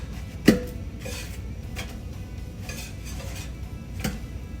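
Pancakes flipped in a pan on a cooktop: a sharp clank of a utensil against the pan, a few soft scrapes and taps, then a second lighter knock near the end.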